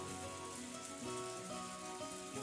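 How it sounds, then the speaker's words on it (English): Wind and rain in the visual novel Umineko form a dense, steady hiss with a faint hum beneath, holding even and unbroken with no voices. "The wind and rain were strong,"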